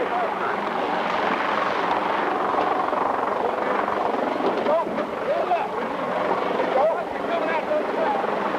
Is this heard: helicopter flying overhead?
yes